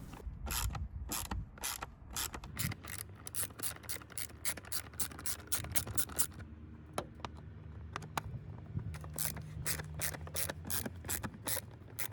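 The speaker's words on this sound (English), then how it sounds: "Unscrew the screws and remove the upper part of the air filter housing." Screws being undone on the air filter housing of a Chevy Sonic, a quick series of sharp ratcheting clicks in bursts, then quieter scattered clicks and faint rubbing.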